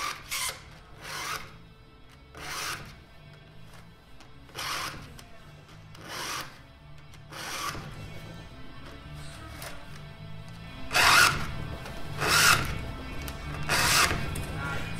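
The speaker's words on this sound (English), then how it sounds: "give it the same number of file passes that I did on this one" Hand file rasping across chainsaw chain cutters, a steady series of separate scraping strokes about one per second, close and fairly quiet, growing slightly louder toward the end.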